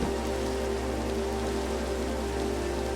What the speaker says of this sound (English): I'm sleeping in the rain.